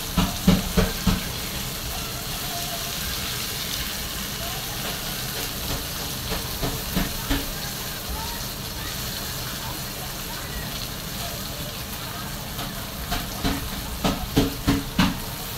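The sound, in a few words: okra (bhindi) frying in pan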